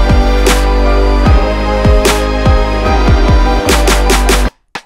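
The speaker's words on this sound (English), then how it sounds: "the simple kick and snare sounds like this." A simple hip-hop drum beat with a steady kick and snare pattern, punchy, close and loud over a sustained tonal backing, cutting off abruptly at the end.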